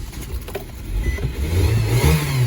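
A car engine catches after a jump start from a NOCO Boost GB40 and revs up, a rising, rumbling roar building close and loud over a few seconds.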